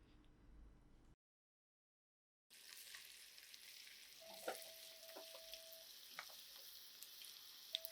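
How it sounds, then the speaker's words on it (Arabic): Chicken pieces fry in hot oil, with a faint, steady sizzle and a few light crackles and clicks that follow a brief moment of silence. "منحمي الزيت منيح هلأ وبننزل فيه قطع الدجاج"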